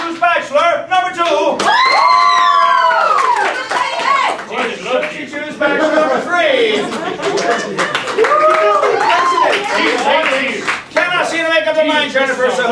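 Studio audience at a dating game show breaking into clapping with cheers, whoops and shouts, loud and close, mixed with lively voices and yelling throughout.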